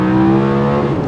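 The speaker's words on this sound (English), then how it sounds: "So it's that initial throttle response with this V10 engine." Audi R8 LMX with a V10 engine pulling hard from 5,500 rpm, a loud, dense harmonic engine roar held close for about a second.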